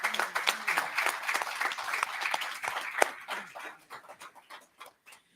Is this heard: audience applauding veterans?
yes